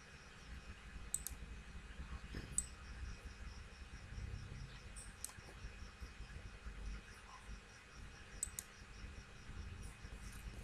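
Sharp computer mouse clicks in drawing software, a few isolated taps spaced seconds apart, faint and close over a quiet low hum.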